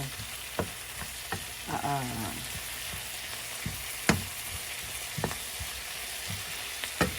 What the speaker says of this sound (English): this is how I cook my liver and onions